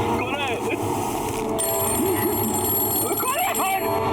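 A telephone bell rings in a haunted-house drama scene, with repeated trilling bursts at the start and end under loud continuous background noise, while people talk over it.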